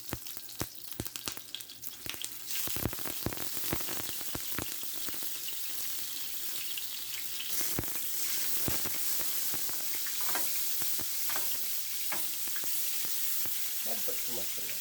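Butter sizzling in hot oil in a pan for pork chops, a steady crackling fry with sharp pops and clicks early on, then a continuous hiss that stays close and fairly loud.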